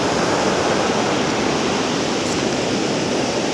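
Powerful ocean waves break at San Clemente, a loud, steady wash of surf roaring close by without a pause, with no voices over it.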